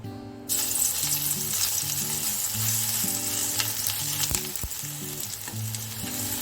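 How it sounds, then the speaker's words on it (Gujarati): About a spoonful of crushed garlic sizzles steadily in hot oil in a pan, loud and close, with a few stirring clinks and a low background tone. "તો સૌથી પહેલા તેમાં 1 ચમચી જેટલું ક્રશ કરેલું લસણ એડ કરી દઈશું."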